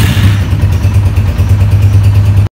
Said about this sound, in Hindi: हैंडल के राइट हैंड साइड पे आप लोगों को स्टार्ट का बटन मिलेगा जो रेड कलर का है, जिसको आप दबाकर बाइक को स्टार्ट कर सकते हैं